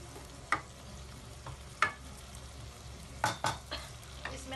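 Chopped tomatoes go into a hot pan for aloo mungre sabzi and are stirred, giving a steady low sizzle broken by several sharp scraping clinks of the spoon against the pan, close and without talk.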